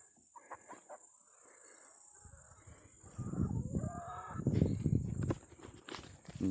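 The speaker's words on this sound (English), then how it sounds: "And chickens are all out today." Hens clucking and chattering outdoors at moderate distance, growing busier midway, with footsteps shuffling nearby and a steady high hiss in the background.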